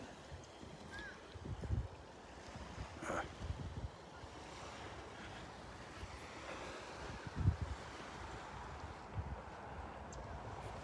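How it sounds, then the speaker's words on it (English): Gentle breeze blowing across a beach before sunrise, heard as steady soft wind noise with faint surf and occasional louder gusts throughout. "76 degrees, a little bit of a breeze blowing."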